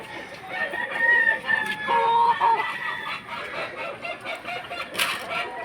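Roosters crow repeatedly amid clucking chickens at a farm crowded with fighting gamecocks, with several birds calling over one another and faint voices in the background.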